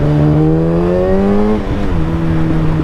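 A motorcycle engine idling and revving steadily close by, its throttle blipped partway through so the pitch dips and then settles again, loud and continuous with no voices.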